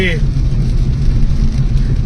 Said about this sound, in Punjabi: ਸਵੇਰ ਦਾ ਜਿਹੜਾ ਮੀਂਹ ਆ ਉਹ ਪੈ ਰਿਹਾ